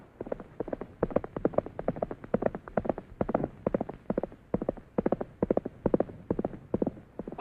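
Trigger the horse's hooves clip-clopping in a steady, brisk rhythm of repeated hoofbeats, close and clear, continuing without talk.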